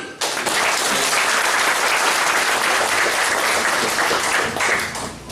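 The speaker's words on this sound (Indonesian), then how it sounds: "Kita tepuk tangan." A church congregation claps together at the dedication of a new church building: loud, thick applause that swells quickly, holds steady for several seconds and then tapers off.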